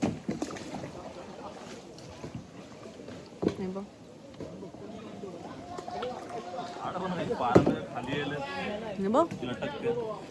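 Kayak paddle strokes splashing through water along a dense, tree-shaded mangrove creek in Malvan, heard close and intermittent beneath steady conversation between two people.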